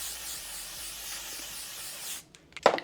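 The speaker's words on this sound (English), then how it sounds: "Go back in with the setting spray." Makeup setting spray misted onto a face, a continuous airy hiss lasting about two seconds, close up, ending with a quiet pause and a short rustle.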